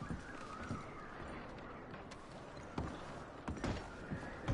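Horses' hooves clip-clop in a PS4 video game, a few irregular, fairly quiet thuds scattered over steady background ambience, with a couple of sharper knocks near the end.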